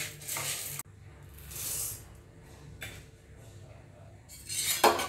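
Two bowls of jowar grain poured into a kadhai heating on a gas stove, making a few hissing, rattling pours of dry kernels on metal, separated by quiet gaps.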